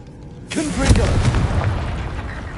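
Blasting spell explosion from a fantasy wizard video game: a sudden loud boom with a crackling burst that rings out and slowly decays, heard alone.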